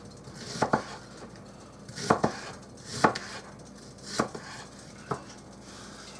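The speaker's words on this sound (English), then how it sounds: "I'm also going to chop up these onions" Onions chopped with a knife on a board, several sharp, close knocks spaced about a second apart, some doubled, over a quiet room with no talk.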